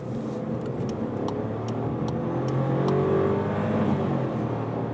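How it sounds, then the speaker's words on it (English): A VW Polo 1.0 TSI three-cylinder turbo car accelerates on a motorway, its engine hum rising steadily in pitch through the gears under constant road and wind noise, heard from inside the cabin. "let's accelerate on the motorway"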